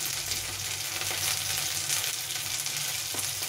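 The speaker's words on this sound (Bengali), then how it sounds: "এখানে পেঁয়াজটা কিছুটা ভাজা হয়ে গেছে, খুব বেশি ভাজতে হবে না" Onions frying in a pan, giving a steady, even sizzle with soft crackles throughout, close and moderately quiet with no voices.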